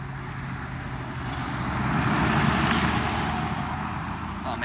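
A car passes on a road near Grand Junction, Colorado, a steady broadband whoosh that swells to a peak midway and then slowly fades, heard alone with no talk.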